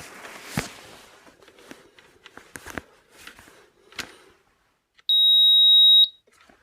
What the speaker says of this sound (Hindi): आपने शायद यहाँ पर एक बजर सुननी होगी